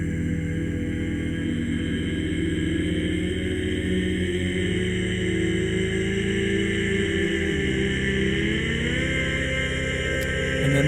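Layered, pitched vocal sample notes, one higher than the other and spread left and right, hold as a sustained, airy drum-and-bass pad with slow pitch glides, loud and close with no speech.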